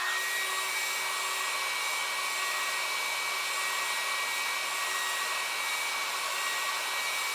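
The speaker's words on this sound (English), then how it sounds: "So grab your wife's hair dryer or your spouse's hair dryer and go shh." A handheld hair dryer runs steadily on high heat and sends out a loud, constant whoosh and whine that does not change for several seconds, with no voices over it.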